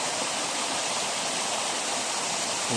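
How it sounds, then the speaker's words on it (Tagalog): Tondulan Falls, a waterfall roughly 16 feet high in Barangay Alegria, Zamboanga del Norte, pours in a steady, close, full-bodied roar of rushing water with no breaks and no voices. "Tundulan Falls ng Barangay Alegria, Baligyan, Zamboanga del Norte."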